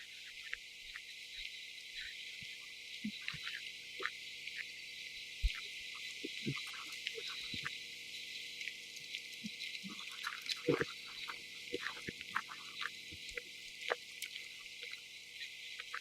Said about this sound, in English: You usually hear the spring peepers down here and the wood frogs too